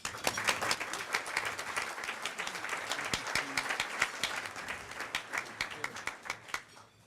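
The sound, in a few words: applause from an audience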